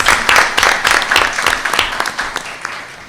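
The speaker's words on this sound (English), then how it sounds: "let's give them all another big round of applause" Round of applause at a county public schools board meeting, many hands clapping with distinct sharp claps standing out, loud at first and gradually tapering off over about three seconds.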